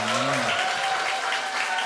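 A church congregation claps warmly for ministry training graduates at a Wednesday prayer service, a full, steady round of applause with a brief voice heard at the start.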